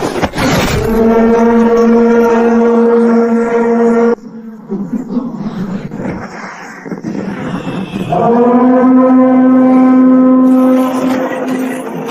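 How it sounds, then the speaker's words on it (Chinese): A loud, blaring alarm siren sounds in two long sustained blasts separated by a brief lull of rumbling noise. "快拉响警报"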